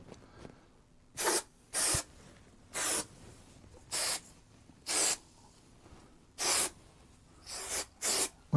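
Contact adhesive sprayed from a can to tack down material in a Vauxhall Royale, about ten short sharp hissing bursts in uneven rhythm with quiet gaps between, close by.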